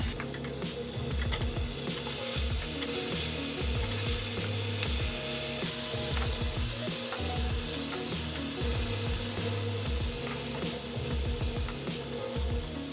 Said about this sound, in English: Now I'm going to go in with my shrimp.